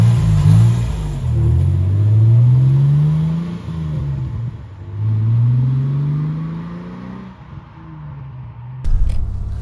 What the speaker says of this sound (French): Premier tour de roue sur cette Morgan V6 3 litres